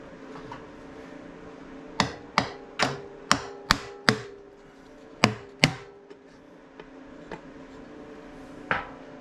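Sharp metallic taps on a stuck Sportster motorcycle part during stator replacement land in a quick burst of about six, then a few more scattered knocks follow, each ringing briefly against a steady background hum.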